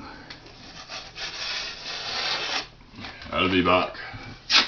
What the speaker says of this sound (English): just coming in and basically scraping the mud off of it.